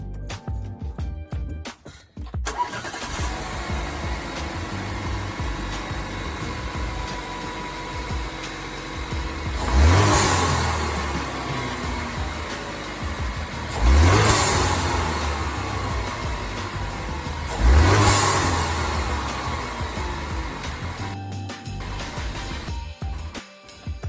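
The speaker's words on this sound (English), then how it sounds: "Alright, that was the stock intake tube." Stock intake tube fitted with a K&N air filter on a Cadillac ATS 2.0 turbo: a steady idle broken by three sharp rev blips, each swelling and falling back, close and loud with no talking.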